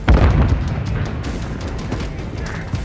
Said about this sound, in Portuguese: Granada lançada!